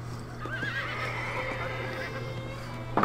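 A horse in Red Dead Redemption whinnies with a rising, wavering call, followed by light hoof clops, over a steady low hum.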